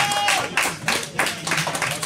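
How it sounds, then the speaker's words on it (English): Audience applause for Michelle's birthday fills the room in a steady, broad wash of clapping, with voices mixed in over it. "Nice round of applause for Michelle."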